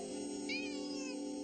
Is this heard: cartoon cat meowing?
yes